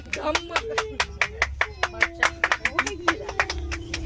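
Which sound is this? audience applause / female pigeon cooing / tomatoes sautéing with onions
audience applause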